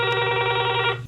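A telephone rings with an incoming call to the Kisanwani farmers' radio phone-in, a steady bright electronic trill with stacked tones that holds for about a second, then cuts off.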